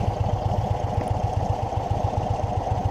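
An Indian Chief Bobber Dark Horse motorcycle with a Thunderstroke 116 engine idles steadily with a low, loping rumble and a slight mechanical clatter, close by and continuous, with no voices.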